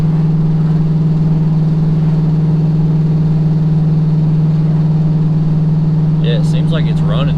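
An LS-swapped OBS truck engine runs at a steady idle, a continuous low drone close by, with voices talking over it toward the end.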